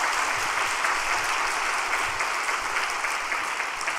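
Steady, full applause fills a church revival gathering, an even wall of many hands clapping together with no voices standing out, sustained throughout at moderate loudness.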